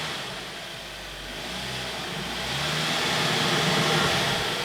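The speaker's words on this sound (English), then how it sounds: "Hear that turbo going." A turbocharged TFSI engine in a Volkswagen GTI or GLI hums and revs up steadily, the rising whoosh of the turbo building over a few seconds.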